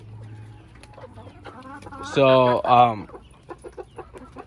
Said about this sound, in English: Got my chickens feeding over here.